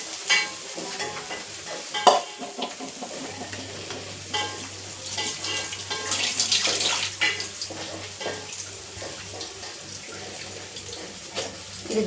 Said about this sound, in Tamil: இந்த சட்டிக்கு மீன் பொரிக்கிறேன்